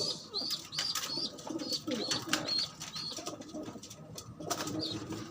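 Pigeons at a breeder's loft coo repeatedly while feeding and scuffling, their soft rolling calls close and steady over faint rustling and a brief flutter of wings.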